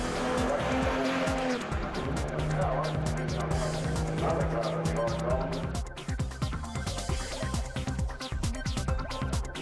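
Classic restored cars race down the closed waterfront straight at the 2012 Geelong Revival. Loud engines roar past close by, with tyres squealing and engine tones rising and falling, and a voice talks over the noise.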